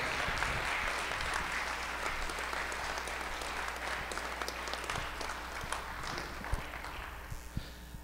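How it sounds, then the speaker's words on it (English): A graduation audience gives a steady, dense round of applause for the graduates, with many hands clapping continuously and loudly throughout, without a break. "a round of applause for these guys"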